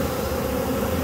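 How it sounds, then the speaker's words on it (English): A gentle swarm of honey bees hums in a dense, steady buzz, close and continuous without any voices. "Just a beautiful, gentle swarm of bees."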